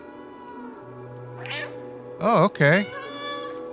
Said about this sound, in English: Press left alt to meow.